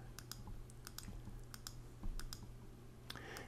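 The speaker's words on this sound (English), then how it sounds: "what I'm doing is just clicking, moving my cursor a little bit, clicking" Computer mouse clicking during Photoshop editing, a series of sharp, irregular clicks, some in quick pairs, close but quiet over a low steady hum.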